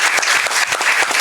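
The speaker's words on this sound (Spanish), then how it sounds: "Un aplauso para Leonardo Jaramillo." An audience applauds at a science talk on climate change, a dense, loud burst of many hands clapping close by with no voices over it.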